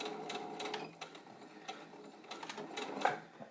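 A sewing machine stitches around a fabric face mask, giving a faint, close, rapid mechanical chatter in short bursts with small pauses between runs.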